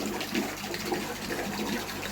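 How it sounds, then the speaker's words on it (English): Tap water runs into a fish tank as a continuous rushing, splashing flow, moderately loud and steady throughout, with no voices. "I've got tap water going"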